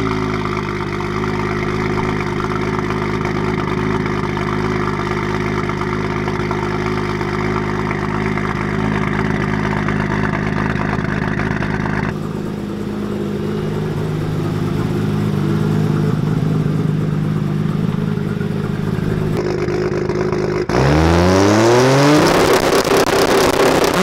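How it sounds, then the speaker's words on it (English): A car in a Rival GTR build, fitted with a big Precision turbo, drones steadily at a raised engine pitch, drops to a lower idle, then revs up sharply in a rising sweep near the end, loud and close. "You cannot tell me this car does not sound good."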